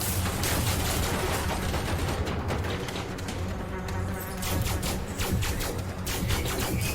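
Rapid gunfire in the video game Elite Dangerous Odyssey, a dense fusillade of crackling shots with buzzing rattles that continues steadily without a break.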